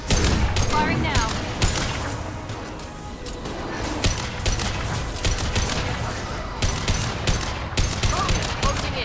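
Sustained gunfire from Mass Effect 2 combat against a charging Krogan, a loud continuous rattle of automatic shots with impacts and clatter throughout, over game voices.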